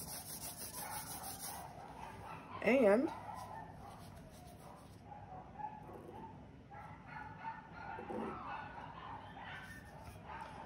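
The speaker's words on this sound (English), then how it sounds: "Don't know why the dogs are barking upstairs." Several dogs barking and yipping on an upper floor of a house, one loud burst of barks standing out before fainter scattered barks continue under a person talking nearby in a basement.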